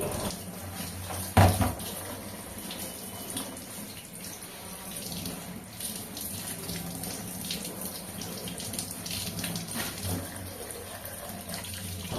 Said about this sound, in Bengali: সবগুলো খুব ভালো করে ধুয়ে পরিষ্কার করে ধুয়ে নিয়ে নিচ্ছি